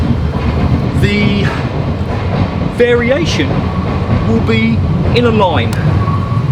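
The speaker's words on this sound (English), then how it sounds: "Sorry about the train." A train passes near a home during an indoor racket-skills practice session, a steady rumbling rail noise running throughout while someone talks over it.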